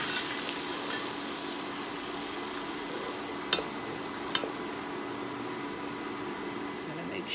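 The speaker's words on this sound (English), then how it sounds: "You're going to keep stirring it and stirring it until it turns to a peanut butter color you like" Flour roux stirred with a wooden spoon in a pot, with a soft, continuous frying hiss and a few faint scrapes and taps, no voice present.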